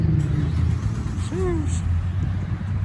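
An Infiniti G35 or G37 car driving past at a gas station, its engine note rising and falling briefly in the middle distance under steady background hum.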